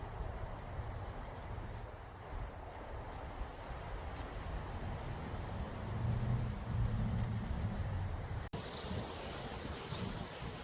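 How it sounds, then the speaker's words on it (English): Strong wind blows outdoors in a backyard on a cool day, a continuous low roaring rumble with gusty swells and buffeting against the microphone, loudest around the middle, with no talking. "the wind is very terrible today"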